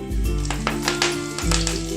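Curry leaves hitting hot coconut oil in a pan for Kerala-style duck roast, a loud crackling sizzle with bursts of spitting over a steady hiss, pan clatter underneath.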